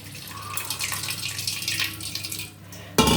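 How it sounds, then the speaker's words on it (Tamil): Cooking water from boiled greens (keerai) and onions is poured off from a pressure cooker, a steady splashing trickle for about three seconds that ends in a brief louder splash, with no talking. "அந்த தண்ணியை மட்டும் நம்ம இதில் வடிச்சுப்போம்."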